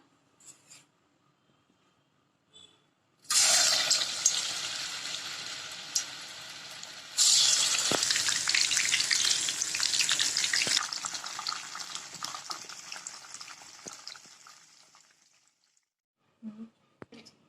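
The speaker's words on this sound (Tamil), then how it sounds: "எண்ணெய் நல்லா ஹீட் ஆனோடனே மிக்ஸ் பண்ணி வச்ச காளானை இதில் சேர்த்துக்கோங்க" Marinated mushrooms for mushroom 65 go into hot oil. After a quiet start, a loud, bright sizzle erupts, surges again as more pieces drop in, then slowly fades to silence, with no talking.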